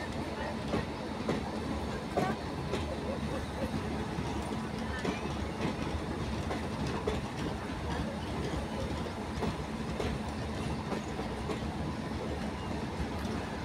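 A train rolls through Rajpura railway station in India, a steady continuous rumble of wheels and carriages with faint clickety-clack, holding an even level throughout.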